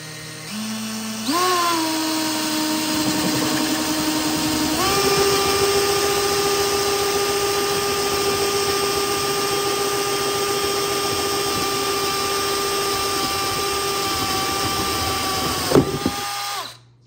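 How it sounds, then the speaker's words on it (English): A power drill with a one-inch spade bit whines steadily at high speed for a long stretch, its pitch stepping up once as it bores, then winding down. "we're using a one inch spade bit"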